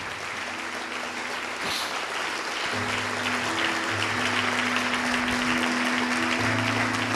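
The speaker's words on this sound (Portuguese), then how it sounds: "Vem aqui para frente e vamos aplaudir ao nome do Senhor, igreja." A church congregation at a worship service claps continuously. The applause swells and grows denser after a few seconds, with sustained musical tones under it.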